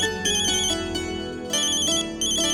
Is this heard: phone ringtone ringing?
yes